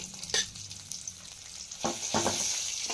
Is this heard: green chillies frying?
yes